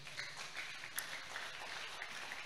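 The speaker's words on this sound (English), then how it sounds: "I don't know why you are clapping like this in church." Congregation clapping in a church during an Easter thanksgiving service, a soft, steady patter of many hands heard from a distance, fairly faint and without speech.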